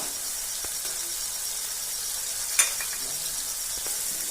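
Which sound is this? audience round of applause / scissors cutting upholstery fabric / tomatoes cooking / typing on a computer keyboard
tomatoes cooking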